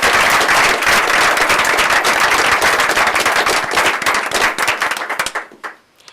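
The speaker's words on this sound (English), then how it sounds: "Another round of applause for those incredible students" A school board meeting crowd gives a round of applause for students, with dense, loud, continuous clapping that thins out and fades over the last second.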